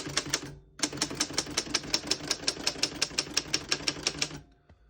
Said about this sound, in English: finish typing in black ink